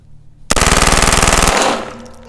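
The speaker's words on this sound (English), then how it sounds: "And we're gonna put it on full auto. And that garbage can doesn't stand a chance." A Tippmann Micro 22 LR fires a loud, close full-auto burst of about a second at a garbage can, a rapid even chatter of shots that ends abruptly and fades into a short echoing tail.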